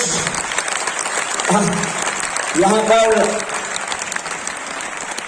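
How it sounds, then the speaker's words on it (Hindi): A large crowd of schoolchildren at an annual school function in Haridwar applauds loudly and continuously, a thick, sustained roar of clapping while someone speaks over it through a microphone. "तालियों की गड़गड़ाहट और ऐसे यहाँ मंच तक आने तक बंद नहीं होनी चाहिए बच्चे"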